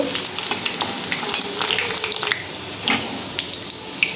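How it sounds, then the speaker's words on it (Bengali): Chopped garlic frying in hot oil, a steady close sizzle with crackling pops and occasional scraping stirs, no voices. "রসুনটা একটু লাল লাল করে ভেজে নেব"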